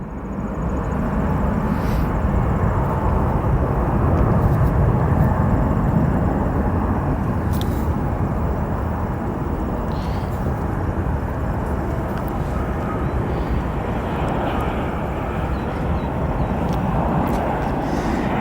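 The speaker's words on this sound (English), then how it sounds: "Let's take a look at that British Airways 777 that just arrived moments ago here into Chicago." A British Airways Boeing 777 just landed at Chicago O'Hare makes a steady, fairly loud jet rumble that swells slightly early on and then holds evenly to the end.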